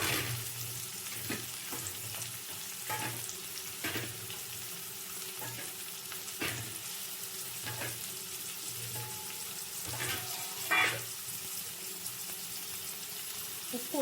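Egg rice ingredients fry in a pan with pepper and green chilli, a steady soft sizzle under repeated scraping stir strokes that knock at irregular intervals through the whole stretch.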